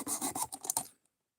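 Sharpening stones are scrubbed clean in a quick series of rasping, scratchy strokes, about six close rubs in under a second before falling silent.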